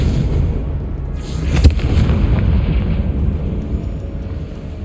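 Confringo blasting spell explosion in the Hogwarts Legacy video game, a loud close boom with a sharp crack that fades into a rumbling roar lasting several seconds. No voices during the blast.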